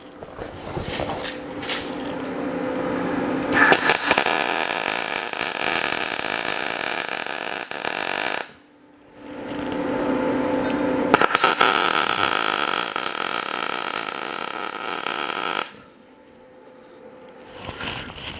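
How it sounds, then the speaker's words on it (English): A handheld grinder grinds a MIG weld flat on the airbag suspension of a 1939 Hudson rat rod, two long, loud, harsh grinding runs with brief quiet gaps and motor whine before and after. "now that I've got it grinded flat"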